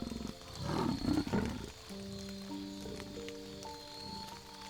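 A leopard gives a low, rasping roar in two close bursts, followed by a soft, tonal rainforest background.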